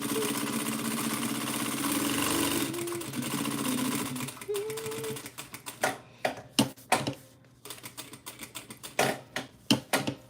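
Sewing machine stitching a tote bag, first a steady whirring run, then a series of short, sharp stitching bursts in an irregular stop-start rhythm, close and moderately quiet.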